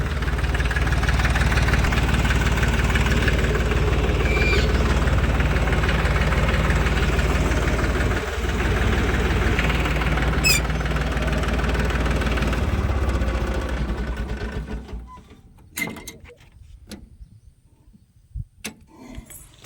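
Tractor engine idling with a steady, loud low rumble and knocking beat for about fifteen seconds, then cutting off and leaving near silence with a few faint clicks, during pesticide spraying work on a farm.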